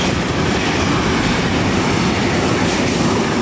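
A BLS Vectron electric locomotive rushes past close by on a windy day with a dense, steady roar of wheels and rail noise throughout.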